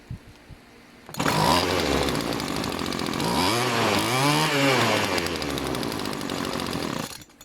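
A McCulloch Electrolux TM251 small two-stroke engine fires up after a quiet moment and runs loud and close, its buzzing revs climbing and dipping before it cuts off at the end.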